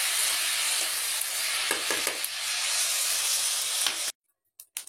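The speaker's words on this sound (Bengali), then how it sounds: "এই যে পটল ভাজা হয়ে গেছে, আমি এখন চুলার উপরে যে তেল দিয়ে দিয়েছি" Pointed gourd (potol) fries in oil on a stove with a steady, close sizzling hiss and a few soft pops, then cuts off abruptly into near silence with a couple of brief bumps at the end; no voices.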